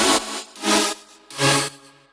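In the second drop of a trap track made in Logic Pro X, three breathy, bright synth chord stabs swell and fade at a steady pace over a faint low tone, with no one talking.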